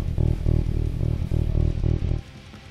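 A Yamaha electric bass with the tone knob turned fully up plays a quick, steady run of repeated notes with a slightly brighter edge, ending suddenly after about two seconds.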